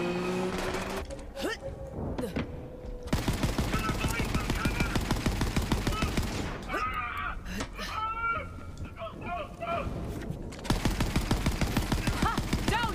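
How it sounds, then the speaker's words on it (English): Rapid automatic gunfire from a gun in the video game Borderlands 3, long loud bursts with short gaps, mixed with game effects and someone talking over it. "This gun's nice, I don't have to reload it."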